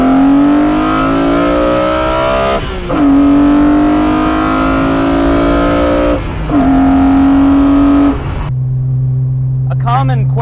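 BMW M engine fitted with an Evolve carbon airbox (Z4M, E46 M3 or Z3M) pulling hard through the gears, a loud rising rev in three long sweeps, each cut by a quick shift, then settling to a low idle-like drone as the clip ends.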